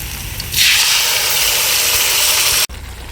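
Onions and gongura leaves frying in a pan give a steady, loud sizzling hiss that starts abruptly after half a second, holds evenly, then cuts off sharply near the end.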